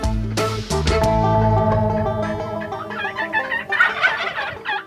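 A hen and three jake wild turkeys call close by during a spring turkey hunt, with loud overlapping clucks and yelps followed by a series of rapid, raspy notes, all with no talking.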